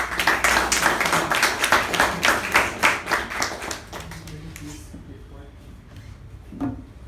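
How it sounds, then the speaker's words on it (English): Applause greets a speaker at a Toastmasters meeting, rhythmic clapping from a small group that holds for about four seconds, then fades into room quiet with a faint knock. "Can we please welcome her with a huge round of applause?"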